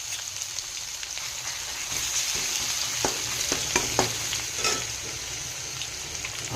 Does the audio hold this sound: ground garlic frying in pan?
yes